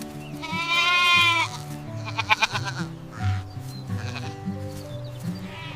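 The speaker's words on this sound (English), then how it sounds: "It's a goat." A goat bleats loudly and close by in a long wavering call, then a few shorter bleats follow, with no other sounds around it.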